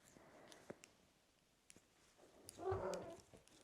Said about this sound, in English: the girl that's meowing behind the camera, looking at me